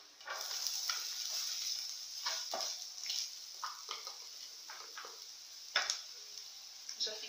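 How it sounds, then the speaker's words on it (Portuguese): Onion added to garlic already browned in a pan, sizzling steadily and close with scattered ticks and small pops throughout. "Esse refogado da cebola e alho."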